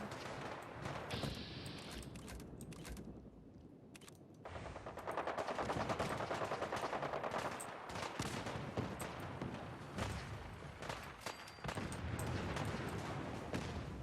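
Rapid automatic gunfire in Fallout 4 aimed at a vertibird, dense bursts of shots with a short lull before heavier sustained firing, loud and continuous.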